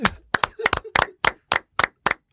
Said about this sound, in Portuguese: que o microfone capta a palma?